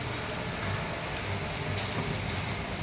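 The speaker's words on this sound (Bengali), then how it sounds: "বৃষ্টিটা কন্টিনিউ ধরেই যাচ্ছে, বেড়েই চলেছে" Heavy rain pours during the Jagaddhatri Puja festival in Krishnanagar, Nadia, a dense and unbroken roar of drops hitting surfaces that stays loud and even throughout, with no talk.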